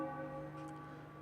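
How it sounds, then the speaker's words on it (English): A church bell in an RPG Maker horror video game tolls once, a single sustained ringing strike that slowly fades, heard alone without speech. "for whom the bell tolls"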